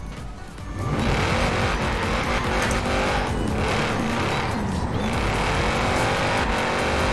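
A Ford Shelby Mustang engine in the racing game Forza Horizon 4 roars and revs continuously at high pitch, rising and falling as it accelerates, loud and close with no pauses.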